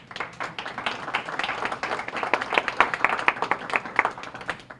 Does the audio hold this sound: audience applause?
yes